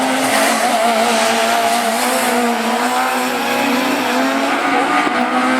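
Rallycross race cars roaring away at a French championship round at Lessay, engines loud and sustained with tire squeal and a steady high whine, close and unbroken.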